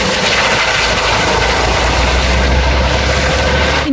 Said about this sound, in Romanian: Elicopterul SMURD a ajuns la fața locului